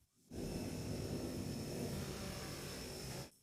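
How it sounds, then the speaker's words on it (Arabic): A radio-controlled model Chinook helicopter with tilting rotors flies nearby, its steady buzzing motor whine rising in abruptly, holding for about three seconds and then cutting off. "المثال اللي جاي هو نموذج تشينوك بيتحكم فيه بالراديو"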